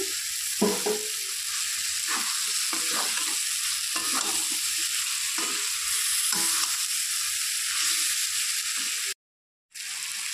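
Pointed gourd and potato pieces hitting hot oil in a pan, a loud continuous sizzle broken by repeated scraping stirs, with a brief silent gap near the end.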